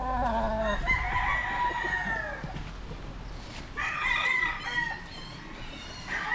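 A young gray-line gamefowl stag rooster crows twice nearby, each call a drawn-out, wavering cry, with brief clucks between them.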